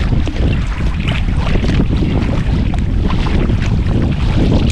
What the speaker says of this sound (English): I'm being hit by wind from the side